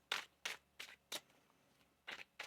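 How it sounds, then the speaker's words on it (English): Tarot cards being shuffled by hand in six quick riffling bursts spaced about half a second apart, close and crisp with brief quiet gaps between, no talking. "One more shuffle here."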